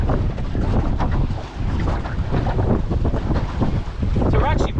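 A sailboat heels over while beating upwind in a force 4 breeze with force 5 gusts. Steady wind roar and buffeting fill the microphone throughout, with water rushing along the hull and a brief lull before the gusts build again.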